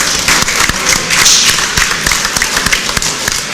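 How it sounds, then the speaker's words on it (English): Loud, close crowd applause for two boxers at an amateur fight night, a dense mass of clapping with sharp individual claps and cheers standing out. "Let's give these two fighters a big round of applause."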